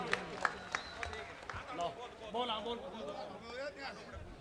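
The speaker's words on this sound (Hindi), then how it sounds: "जोरदार तालियां" Crowd at an RLP protest rally against the sand-mining mafia in Dhorimana claps and chatters; scattered sharp claps stand out early, then a babble of voices and shouts continues underneath at moderate distance.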